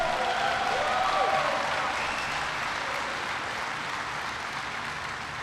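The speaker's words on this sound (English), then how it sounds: "Give Quentin a big round of applause." An audience at a clean energy address by President Obama gives a big, steady round of applause, with a faint cheer at the start, the clapping staying dense and even throughout.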